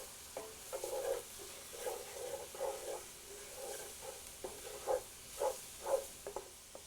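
Chopped vegetables go into a hot pan for a cottage pie burger and are stirred, soft sizzling under a series of scraping stirs and clatters, fairly quiet and close with no talking.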